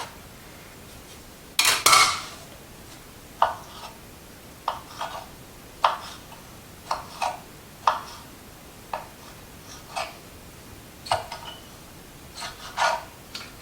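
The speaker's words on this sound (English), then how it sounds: "Finely diced tomatoes without getting tomato juice." Knife chopping finely through tomatoes on a cutting board, heard as a series of crisp, close taps spaced irregularly, with one louder scraping clatter near the start and no talking.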